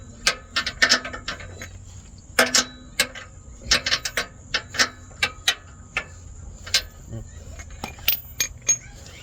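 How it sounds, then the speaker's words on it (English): A ratchet works a bolt on the front link of a 2021 Honda Odyssey Touring, giving a string of sharp metallic clicks and clacks in uneven bursts, close and crisp over a quiet room hum. "I'll just get my ratchet in it."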